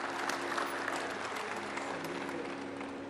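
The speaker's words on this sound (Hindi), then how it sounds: "अथर्व के लिए जोरदार ताली बजा दो भाई" A crowd claps loudly and steadily for a boy named Atharv at a yoga and Ayurveda gathering, with dense applause running without a break for about three seconds.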